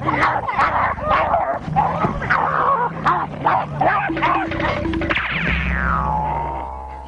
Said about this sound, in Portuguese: Eu fui mordido por um cachorro